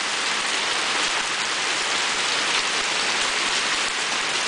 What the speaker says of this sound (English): Oh, rain's picking up again.